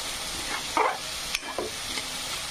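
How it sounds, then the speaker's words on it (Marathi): Ginger, coriander and garlic fry in a pan for a spiced sprouts gravy, giving a steady close sizzle with a few scraping stirs and one sharp clink of a utensil. "अद्रक, कोथिंबीर, लसूण पण तळूया।"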